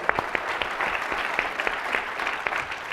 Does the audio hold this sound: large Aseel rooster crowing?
no